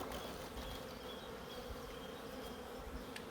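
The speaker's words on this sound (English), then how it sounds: "you're just checking to see that the bees are there, which they are" Honey bees from a package being installed into a hive give off a dense, steady buzzing swarm drone. It is close and constant throughout, with no voices.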